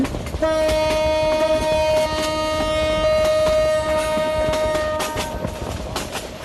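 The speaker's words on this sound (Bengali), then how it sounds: "আবার এদিক দিয়ে আরেকটা ট্রেন ক্রসিং হচ্ছে।" A local train passes in Train Sim Bangladesh, its loud sustained horn sounding over rumbling wheels and rhythmic rail clatter, close and continuous with no voices.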